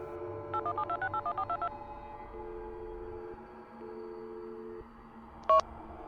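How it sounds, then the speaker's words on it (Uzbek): A phone's keypad sends a quick, even run of about nine dialing tones while placing a call to the last contact in its call history, followed by a steady hum and one short beep near the end. No one speaks. "Qo'ng'iroqlar tarixidagi so'nggi kontaktni bosib, unga qo'ng'iroq qildim."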